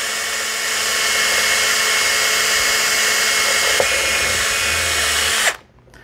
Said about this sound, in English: just drill the hole straight through.